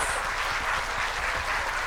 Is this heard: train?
no